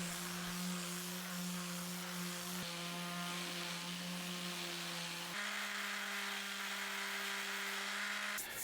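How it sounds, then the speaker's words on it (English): A close, continuous orbital mouse sander whine with a gritty abrasive hiss as 120-grit paper sands wood, shifting pitch slightly a couple of times, with no talking. "We used 120 grit on the orbital mouse sander."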